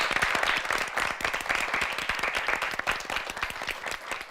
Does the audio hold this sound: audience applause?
yes